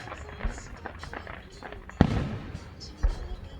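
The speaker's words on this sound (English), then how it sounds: "Takes a minute for the sound of the firework to reach us." Distant fireworks at an outdoor display boom in several dull, muffled thumps, one notably stronger than the rest, under scattered background noise and a speech-like murmur.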